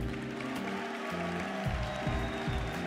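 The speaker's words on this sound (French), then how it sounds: "Applaudissements, s'il vous plaît." Applause from an audience at an award ceremony, a steady clapping wash that carries on for a few seconds beneath sustained background music.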